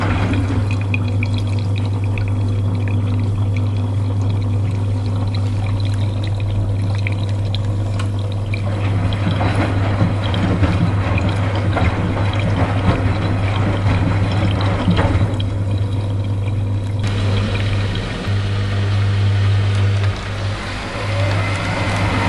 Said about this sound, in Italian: Carico acqua del terzo ed ultimo risciacquo con ammorbidente e centrifuga finale.